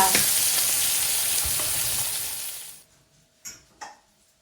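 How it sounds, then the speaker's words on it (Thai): Eggs being scrambled in a hot pan for a Thai dish, a loud steady sizzle that dies away after a few seconds, followed by two light scraping clinks of a utensil. "ทีนี้เรามาขยี้ไข่ค่ะทุกคน"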